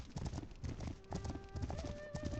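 Horse hooves clip-clop in a steady, repeated rhythm in the video game The Legend of Khiimori, fairly close, with soft tonal game sounds rising briefly over the later steps.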